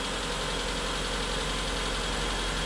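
A Suzuki Alto car engine idles steadily at close range, giving a continuous rumbling hum with a faint regular ticking pulse and no voices.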